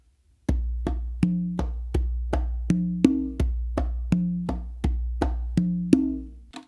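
Conga drums play a steady open-tone pattern with no close slap, about thirteen evenly spaced resonant hits with clear low pitches alternating between two drums, each ringing briefly before the next, alone and fairly close.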